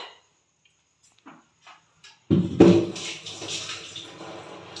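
Water splashes and pours steadily into a cooking pot after a few quiet knocks, a close, continuous rushing that fills the rest of the clip.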